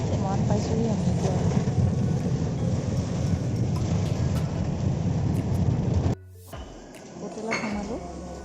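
Rain beats down hard during a storm with a deep rumble beneath it, then cuts off abruptly as if cover is reached, leaving quieter scattered sounds afterward.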